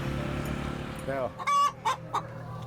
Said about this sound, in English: the chickens know when we're getting ready to move these houses